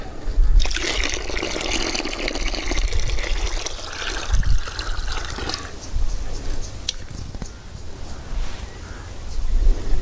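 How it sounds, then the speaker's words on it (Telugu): Liquid solution poured into five litres of water and mixed, giving a steady trickling, splashing wash of water close by, with a soft wind rumble underneath and no talking. "ఇప్పుడు 5 లీటర్ల నీటిలోకి 5 మిల్లీల ద్రావణాన్ని తీసుకొని కలుపుకోవాలి."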